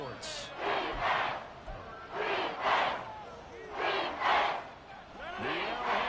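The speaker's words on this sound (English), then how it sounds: "The Arrowhead crowd in full roar." Stadium crowd at Arrowhead roaring in an EA Sports football video game, a continuous swelling roar rising and falling in waves, with commentary voices over it.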